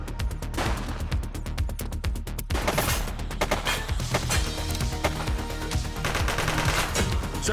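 Rapid bursts of gunfire ring out in The Precinct, a PS5 police game, with dense automatic shots stacked close together in a loud, continuous exchange that barely lets up.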